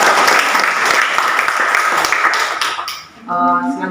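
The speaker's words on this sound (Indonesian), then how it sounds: "Tepuk tangan untuk Agatha." A classroom group claps for a student named Agatha, a brisk burst of clapping that breaks off near the end before a short ringing tone with a voice.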